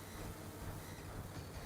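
Steady, continuous rumble of a train rolling along in Final Fantasy VII, a dense low mechanical clatter that holds evenly throughout with no talk over it.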